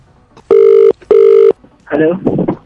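Two long electronic telephone rings, evenly spaced and loud, followed by a short burst of a voice, as in a comedic radio prank call.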